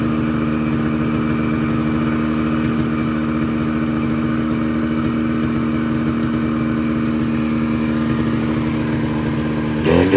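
A 1972 Polaris Colt 340SS snowmobile engine runs continuously nearby, a loud, buzzy two-stroke drone that sounds slightly rough and uneven, as if misfiring on one cylinder, with no voices over it.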